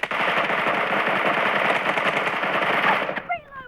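Sustained automatic gunfire from the mobile battle royale game PUBG Mobile rattles in a rapid, dense burst for about three seconds, then cuts off into a few fading echoes and pings, with a voice talking over it.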